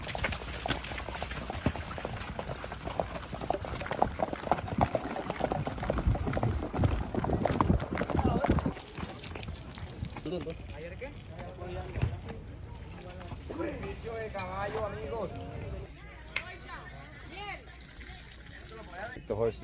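Horses clip-clopping along a jungle trail in Tayrona National Park, Colombia, their hooves thudding in an uneven rhythm close by, with people talking over much of it.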